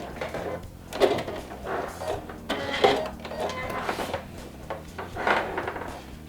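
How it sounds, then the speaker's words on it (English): A domestic sewing machine fitted with a metal roller foot stitches glitter vinyl, giving a steady mechanical whir and clatter with repeated bursts of louder rattling across the span, close and fairly loud. "As it sews, it rolls and it feeds the fabric"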